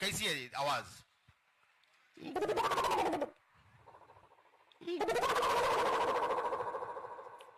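A man on stage at a public event in Jharkhand imitates an owl's call with his voice, producing loud warbling, hooting bursts in two long stretches, with brief spoken words at the start.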